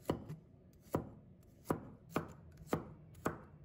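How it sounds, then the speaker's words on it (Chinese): A knife chops garlic into slices on a cutting board: six sharp, fairly evenly spaced thuds about two-thirds of a second apart, close and distinct over quiet background. "接下来准备一些大蒜，给它切成蒜片"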